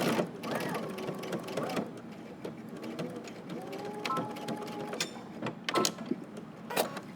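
A domestic sewing machine runs in short bursts while stitching a jacket collar, its motor whirring and the needle mechanism clattering close up, with speech over parts of it.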